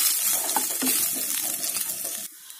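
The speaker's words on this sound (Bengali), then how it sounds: "আমাদের কিন্তু দেখো এটা একটু ভাজা ভাজা হচ্ছে।" Potatoes and chilies coated in ginger-garlic paste sizzle and fry in a pan while being stirred, with a steady hiss and a few scraping stirs before the sound drops off near the end.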